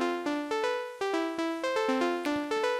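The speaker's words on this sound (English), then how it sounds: "And now I've got a sequence playing just on the Ableton analog synth." A basic sequence plays on the Ableton analog synth, with bright sustained notes stepping in a quick regular rhythm, clean and alone.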